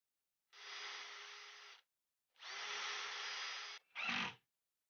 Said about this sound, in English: I clamp the whole thing in place and screw the latch in